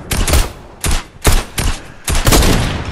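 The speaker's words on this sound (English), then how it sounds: "He's shooting at you." Gunfire in a Fortnite match, with sharp, loud shots arriving in several separate bursts, each a quick cluster of reports with short gaps between them.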